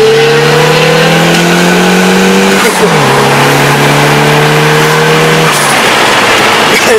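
A Lamborghini LP640 engine roars loudly and close, holding a high, steady note, then dropping and climbing again as it accelerates, with the pitch falling away near the end.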